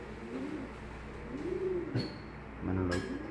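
Pigeons coo in low, rounded, swelling calls, three or four phrases at close range, with faint background noise and a short high chirp between them.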